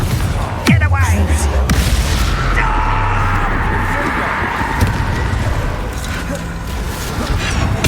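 Confringo fire blast spell cast in Hogwarts Legacy during combat: a booming burst over steady rumbling battle noise, close and loud, with a character shouting during it.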